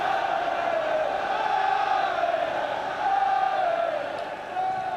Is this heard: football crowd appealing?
yes